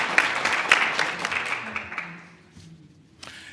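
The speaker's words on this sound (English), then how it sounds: "Give them a round of applause" Banquet audience at a school awards dinner breaking into a round of applause, lively clapping that gradually thins out and fades to near silence, then a brief stray sound at the end.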